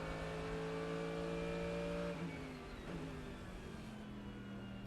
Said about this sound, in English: That's the unmistakable sound of the Mercedes AMG engine climbing the hill from 4 to 5.